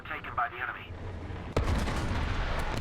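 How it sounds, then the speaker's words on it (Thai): Distant gunfire and a heavy booming blast in the tank game War Thunder, with a voice talking at first before sustained rumbling shots take over. "เสียงปืน"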